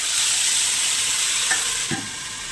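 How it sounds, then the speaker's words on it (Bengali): Meat and a bay leaf fry in a pan with a loud, close, continuous hiss of sizzling oil and a small clink of utensil near the end. "এবারে দেব তেজপাতা এবারে মাংসটা দিয়ে দেবো"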